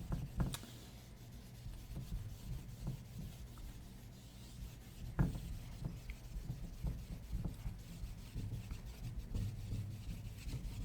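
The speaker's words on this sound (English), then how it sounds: "Takes a while to erase these little erasers." Small eraser rubbing back and forth on paper, a soft close scratchy friction repeated steadily throughout with a few sharper taps, quiet and alone without talk.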